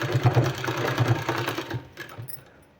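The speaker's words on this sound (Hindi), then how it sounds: "इसमें इस डिजाइनिंग को रखते हुए हमको सिलाई लगा देना है।" A sewing machine stitching a 2-inch-wide fabric strip onto a palazzo pant design, a fast rhythmic whir of stitches that slows and stops near the end.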